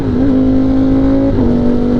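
Loud motorcycle engine holding a steady drone, with a short pitch rise then a drop as it revs, close by.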